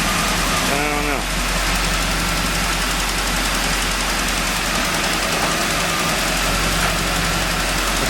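A 1989 Pontiac Trans Am engine idles steadily while warming up, a loud continuous low rumble held close and unbroken, with someone talking over it.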